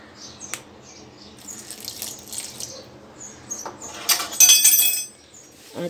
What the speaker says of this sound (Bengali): আমি এখন সামান্য একটু পানি দিয়ে দেব